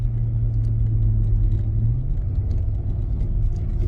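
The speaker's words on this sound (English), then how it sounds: "weird downshift again, weird downshift." A road vehicle's engine downshifts while driving, a steady close rumble and whir with a drop in engine tone partway through, alone with no voices.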